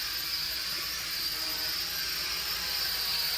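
Holy Stone X400 quadcopter drone flying indoors, a constant high whirring buzz of the propellers, steady and close.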